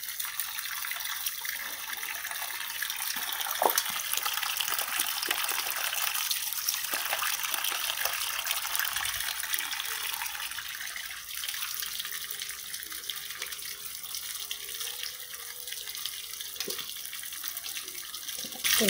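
Cold tap water runs steadily over banh tet rice cakes, a continuous splashing rush under a faint trickle, close and even throughout with no talking.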